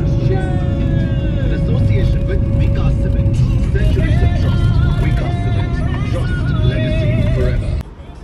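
Heavy road traffic in Mumbai, a dense, constant roar of engines and tyres with passing vehicles and faint honks, loud and close, cutting off abruptly near the end.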